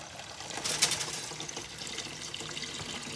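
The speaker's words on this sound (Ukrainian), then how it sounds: "Набираю води" Tap water runs into a pot to cover cabbage for a Ukrainian millet-and-cabbage dish, a steady close splashing flow that swells briefly and then settles into an even pour with no talk.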